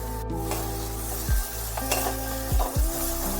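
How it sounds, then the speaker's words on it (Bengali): Eggplant pieces fry in oil with a constant near sizzle, while a few low thumps and scrapes of a stirring utensil against the pan punctuate it. "বেগুনগুলো শিমের মতন করেই অল্প একটু ভেজে নিতে হবে।"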